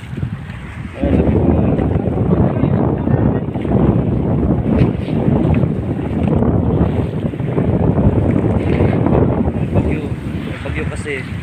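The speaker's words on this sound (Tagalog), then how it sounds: "ang lakas ng alon dito mga katropa" Strong sea waves and gusting wind batter a small boat during an approaching typhoon, a loud continuous roar with heavy wind buffeting the microphone and churning water throughout, with no talking heard.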